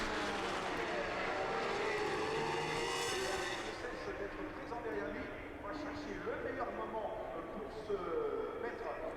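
Porsche Carrera Cup race cars at the Le Mans circuit roar past with high engine whine rising and falling as they pass, under continuous race commentary.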